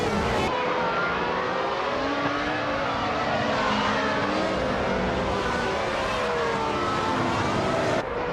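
Vintage race cars, led by a 1995 Ferrari 412 T2, roar off the line at a racing game's Avenisto Vintage track, a dense, continuous, loud whine of several engines revving and shifting pitch together.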